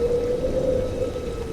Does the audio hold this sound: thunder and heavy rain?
yes